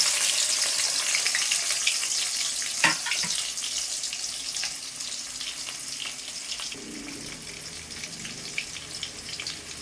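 Onions frying in oil with cardamom, cloves and cinnamon for a jackfruit curry, a steady close sizzle with faint stirring and a brief clatter, no talk.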